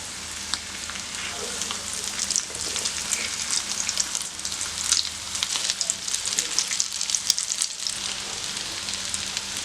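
Potato cutlets shallow-fry in oil in a pan, giving a close, steady sizzling crackle with dense popping that swells slightly toward the middle.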